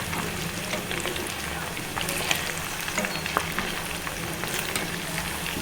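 Chicken pakodi fry slowly in hot oil, giving a steady, close bubbling sizzle with scattered pops and crackles throughout and no voices.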